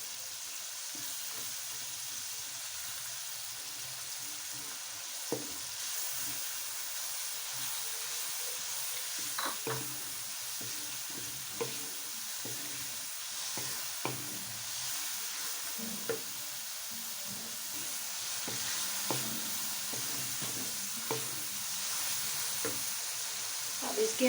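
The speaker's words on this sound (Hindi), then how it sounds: "लहसुन अदरक के साथ ही हमने कीमे को भूनना है।" Minced meat fries with garlic and ginger in a pan, a steady loud sizzle and hiss with occasional scraping stirs and pops, continuous and close, without talk.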